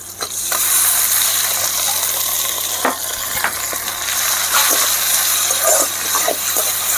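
Tomatoes tipped into onions frying in ghee for a mutton ghee roast, giving a steady close sizzle with scattered clicks and stirring scrapes, with no talk.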